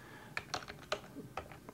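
Someone types a Group Policy update command on a computer keyboard during Windows Server 2008 administration, giving a string of crisp, close key clicks in an uneven rhythm of about seven strikes with no talking.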